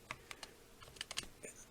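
A handful of faint, scattered keystrokes on a Razer Huntsman keyboard: soft clacks, a few in quick pairs, recorded quietly nearby.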